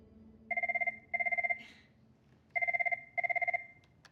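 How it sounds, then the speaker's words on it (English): An office telephone rings in two pairs of bright electronic trills, each burst clear and close, with short silences between and a quiet room underneath. "The phone rings,"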